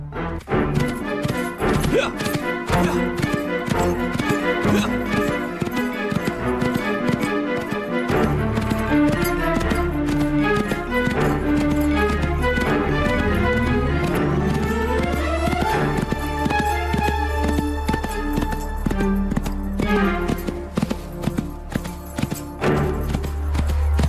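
Galloping hooves pound on in a steady clip-clop throughout an audio drama scene, mixed with swelling background music that shifts and builds, the rhythm persisting loud and continuous.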